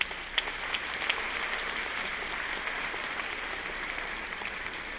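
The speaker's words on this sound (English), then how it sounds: "could we all give ourselves a round of applause for doing this work?" A faculty audience at a college convocation gives a faint, distant round of applause, a soft even wash of clapping that carries on for several seconds.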